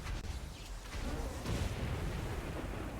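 Mortar fire from tower defenses in the video game Dungeon Defenders Redux, a dense continuous barrage of booming blasts and crackling bursts that stays loud throughout with no talking.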